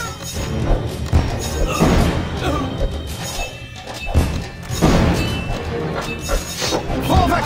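Bombard artillery tower firing in the Kingdom Rush Frontiers strategy game: repeated heavy thuds and crashing impacts, several booming hits spread through the clip amid busy battle noise.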